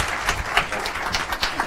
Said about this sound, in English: You all can clap for Wade.